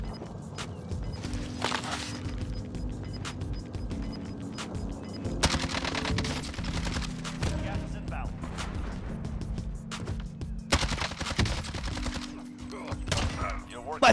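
Suppressed Galil rifle fire with a Monolithic Suppressor in Warzone, heard as repeated bursts of muffled automatic shots mixed with other battle noise and game sounds, steady and fairly close throughout.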